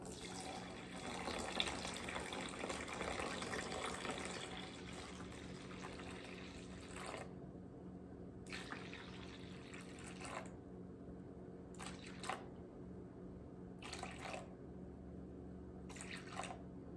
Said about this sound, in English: add 630 grams of lukewarm water